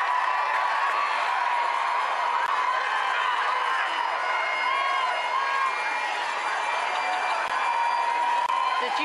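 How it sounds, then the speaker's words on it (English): Crowd of several hundred packed behind barriers at a royal wedding, cheering and shouting continuously, a dense, steady roar of voices with scattered whoops. "eliciting the biggest cheer yet from a crowd of several hundred packed behind their barriers"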